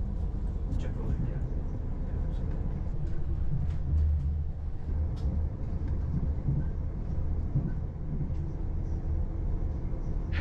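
Train rumbling along the Dublin to Rosslare railway line beside the River Avoca, a steady low continuous rolling drone throughout with faint clicks, heard from inside with a voice speaking over it.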